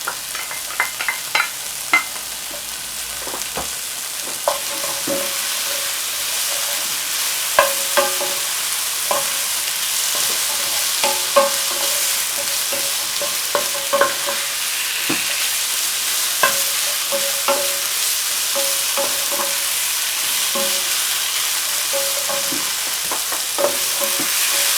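Char-grilled vegetables being stir-fried with ginger, garlic, onion and scallion in a hot pan, a constant loud sizzle with repeated scraping clatters of a utensil tossing the food, close by.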